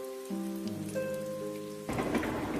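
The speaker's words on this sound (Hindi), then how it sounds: "खिड़की के बाहर से तेज हवाएं और लगातार बरसती बारिश दिख रही थी।" Heavy rain pours down with strong wind in a cartoon scene, a dense steady wash of noise that swells louder partway through, with steady tonal music underneath.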